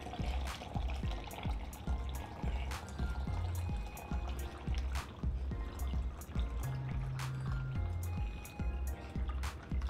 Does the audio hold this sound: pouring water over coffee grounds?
yes